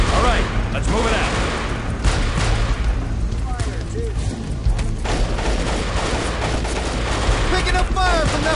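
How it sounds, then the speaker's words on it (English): Sustained gunfire rages in the jungle fighting of Delta Force: Black Hawk Down, dense overlapping shots and distant booms filling the scene, with voices calling out over the din. "Picking up fire from that fortification!"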